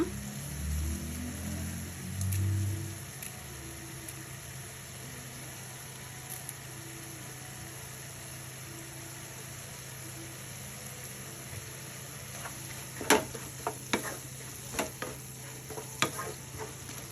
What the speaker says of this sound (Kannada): ಕರಿಬೇವಿನ ಸೊಪ್ಪನ್ನ ಹಾಕ್ಕೊಳ್ಳೋಣ